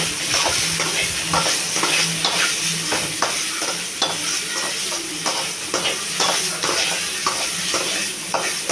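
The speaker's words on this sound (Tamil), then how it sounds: "இது பாருங்கள் கத்திரிக்காய் நல்லா வதங்கிடுச்சு" Brinjal (eggplant) sautéing with salt in a pan for kathirikai kuzhambu, a steady close sizzle broken by repeated scraping stirs at an even rhythm throughout, no voices.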